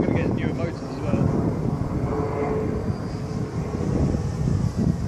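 Electric motors on a radio-controlled VTOL model plane whine and drone through aerobatic manoeuvres, a continuous buzzing hum that rises and falls outdoors with wind rumble, while people talk over it.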